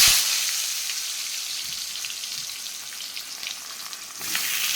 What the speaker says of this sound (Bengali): কড়াইতে তেলও গরম হয়ে গেছে, চলুন তাহলে দিয়ে দিই, যেহেতু তেল তো পুরো তৈরি একদম ভাজার জন্য।